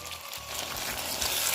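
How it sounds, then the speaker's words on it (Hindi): Boiled peas tipped into potatoes frying in hot oil for a Pahadi aloo matar curry, giving a steady close sizzle and crackle of frying that continues alone without talk. "अब डाल देंगे उबले हुए मटर।"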